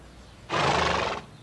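A horse gives a single loud neigh lasting under a second, close to the microphone against a quiet background.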